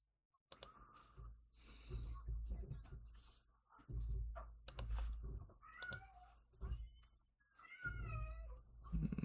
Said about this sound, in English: Sorry about my El Gato meowing in the background.